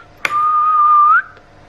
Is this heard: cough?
no